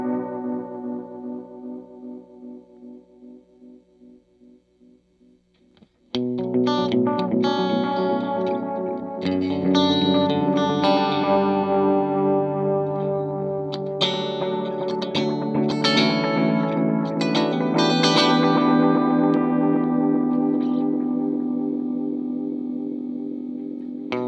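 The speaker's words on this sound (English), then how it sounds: "with the Amazeo, we can turn on modulation, and let's hear what it sounds like" Analogman ARDX20 Amazeo analog delay pedal with modulation engaged on an electric guitar, with a quiet repeating figure that gives way after about six seconds to loud, continuous strummed chords with wobbling, chorused echoes throughout.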